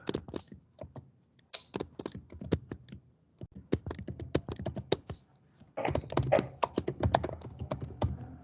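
Quick bursts of keystrokes on a computer keyboard, clicky and close, in irregular runs with a short pause midway and then a denser flurry of typing.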